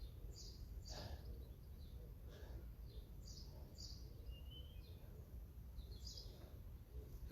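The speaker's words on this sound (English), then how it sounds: "Listen to the birds sing." Birds sing outdoors: faint, scattered high chirps and tweets over a steady low rumble of background noise, with no talking.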